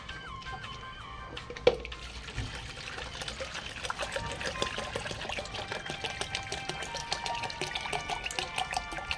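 Water being poured and trickling in a household setting as a natural remedy is mixed into half a measure of water for chickens, with a steady liquid flow, a sharp knock early on and faint background sounds.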